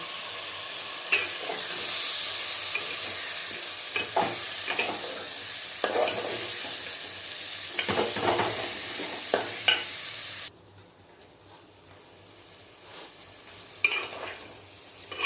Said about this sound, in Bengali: এর মধ্যে চালটা দিয়ে দেবো, ডালটা দিয়ে দেবো, দিয়ে এটাকে একটু কষাবো।